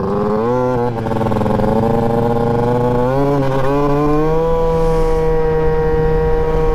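A small scooter engine drones and revs steadily nearby, its pitch rising and shifting as it pulls away.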